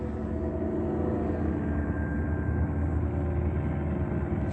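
Helicopter flying overhead, a continuous loud low rotor and engine rumble that stays steady throughout with no talk over it.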